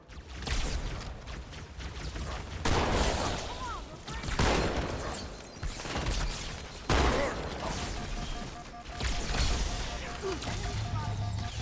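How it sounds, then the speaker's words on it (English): Repeated heavy booming blasts from a Hunter's cannon in Halo 2, each followed by a crashing rumble, amid loud game noise. "Is that a hunter's cannon I heard?"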